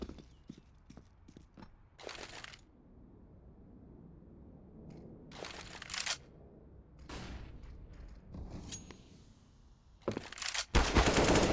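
Several short bursts of spray fire crack out in Counter-Strike on the Overpass map, separated by quiet gaps, with a louder sustained burst near the end.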